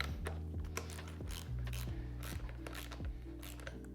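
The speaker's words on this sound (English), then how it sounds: "Then from here, I'm going to snug up the 3 bolts on top." Ratchet wrench clicking as the steering stem bolts on a Yamaha PW50 are snugged up, quiet repeated short ratcheting strokes with faint metallic clinks.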